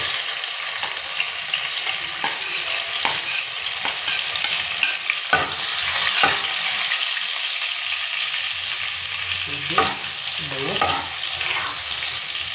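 Garlic sizzles steadily in a hot pan beside cooked fish, a continuous frying hiss broken by occasional stirring scrapes and clinks.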